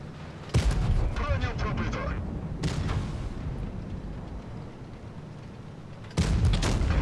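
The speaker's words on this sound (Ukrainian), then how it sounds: "Дивіться, які точні постріли." Heavy booming tank cannon shots in a video game, with sharp onsets, one near the start, another mid-clip and a third near the end, over a constant engine rumble.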